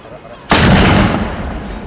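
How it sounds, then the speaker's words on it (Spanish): A single loud blast from a historical cannon at a historical reenactment in A Coruña booms suddenly, close and powerful, its roar slowly decaying over the next second or so. "un segundo tiempo es el disparo de la pieza en el ánima del cañón"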